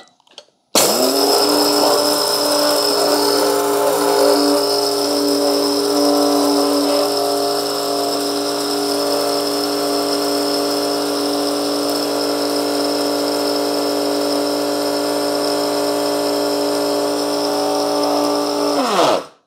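A Cuisinart DCG-12BC blade grinder grinds coffee beans for a fine grind, running as one loud, steady motor whine for about 18 seconds with a sharp start and stop and no talking.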